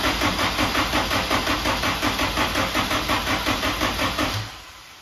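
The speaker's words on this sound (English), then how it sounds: "It does seem to be cranking over better." A car engine with a suspected battery or voltage problem cranks over steadily under the starter in a fast, even rhythm of pulses for about four and a half seconds, then stops without catching. The sound is close and loud.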